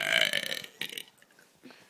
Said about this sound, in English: just burp goodbye